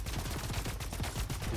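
Rapid, dense video game gunfire rattles without pause in continuous overlapping bursts, loud and close throughout, with no voices.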